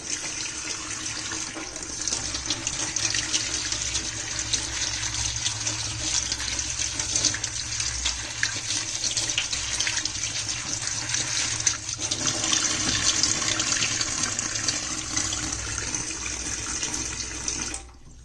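Mushrooms are rinsed under a running kitchen tap, a steady close rush of splashing water that carries on almost without a break and stops abruptly at the end.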